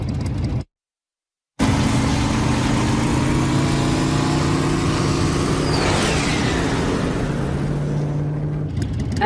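A motorcycle engine runs steadily at a low, even pitch, close and continuous, with a short silent gap near the start and a brief rising whine partway through.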